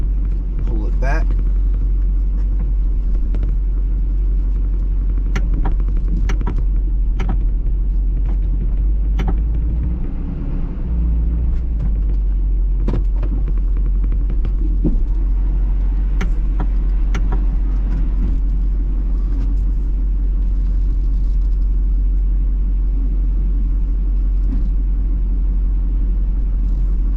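A snow plow truck engine runs steadily while driving, a loud continuous low rumble with occasional knocks and clatter, and a person talks over it.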